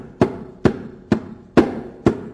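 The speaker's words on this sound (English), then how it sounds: "I keep the heel of my hand on the head of the drum to create a dead sound." Five evenly spaced dead strokes on a hand drum, played with the heel of the hand resting on the drum head, give short, muted thumps with quick decays at a steady moderate pace, close by and alone.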